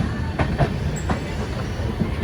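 A train pulls into the main station at Delhi, its wheels giving a steady rumble with rhythmic clickety-clack beats and faint squeals, no voices.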